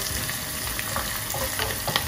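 Ginger and garlic fry in a pan for a Kerala moru curry, giving a loud, steady close sizzle with light stirring scrapes.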